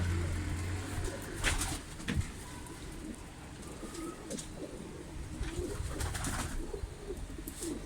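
Pigeons coo softly in a coop built on a platform atop a rooftop shanty, with low repeated cooing, occasional wing flutters and rustles, and faint outdoor background.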